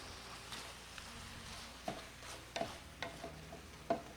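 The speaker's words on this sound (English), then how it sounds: "Keep sauteing the apples." Apples sauteing in a skillet, a faint soft sizzle with occasional quiet clicks and scrapes of stirring, heard alone at low volume.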